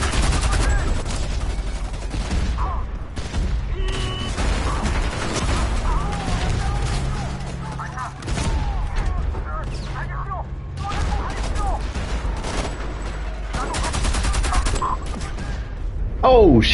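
Sustained gunfire in Homefront The Revolution while shooting heavies, dense volleys and bursts of shots with booms and clatter running throughout, loud and close, with some voices mixed in.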